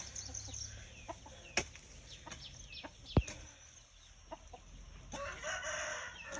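Chickens cluck and a rooster crows in a garden setting, the calls faint and scattered with a few sharper bursts over quiet background noise; no talk is heard.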